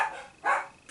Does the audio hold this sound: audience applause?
no